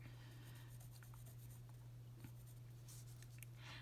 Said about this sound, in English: Make a little mark where the sides are, where it needs to be cut, and then also at the top.